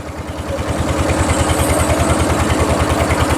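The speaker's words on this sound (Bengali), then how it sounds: "মোটর বোটে করে গঙ্গা ভ্রমণ। এই দেখো, এই মোটর বোটটা সোলারের," A solar-powered motor boat engine cruising on the Ganges, giving a steady, loud, close rhythmic low hum with fast regular pulsing and wind-like hiss above it.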